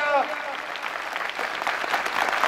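A crowd claps for a group at a song performance, a dense, steady burst of applause that starts right away and keeps going for the whole short stretch.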